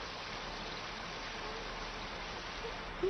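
Rain falls in a steady, dense hiss, continuous and even throughout with no voices, a soft wash of noise that stays level the whole time.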